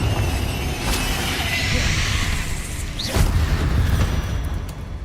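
In Hogwarts Legacy a Confringo blasting spell erupts during a room-clearing fight: loud whooshing blasts and crashing impacts over a steady rumble of battle noise.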